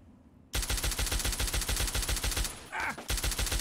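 Sustained automatic rifle fire from an infiltrator weapon in Fallout 3 rattles in rapid, evenly spaced shots, loud and close, with one short pause before the burst resumes.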